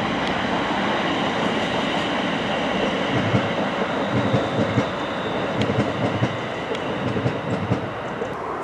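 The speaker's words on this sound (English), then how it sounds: "I'll just show you a quick train passing and then we'll carry on." A train rushes past on the Chase Line railway, loud and close, with steady rolling wheel roar and rhythmic clickety-clack throughout.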